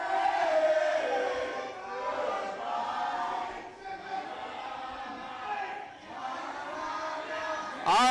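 Wrestling crowd at an IWE BattleZone event yelling at a wrestler to run away, a steady roar of voices at moderate distance, with a commentator talking over it.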